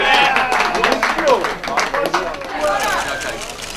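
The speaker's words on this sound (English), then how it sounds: "give them a round of applause" A crowd claps and cheers in a lively burst, steady applause mixed with chatter and a few voices calling out.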